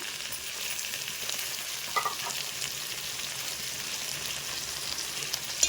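Steady close sizzling of a spice tempering frying in hot oil, a broad crackling hiss with a couple of faint clinks and no talking.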